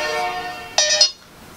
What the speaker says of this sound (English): Ringing on withheld numbers, trolls.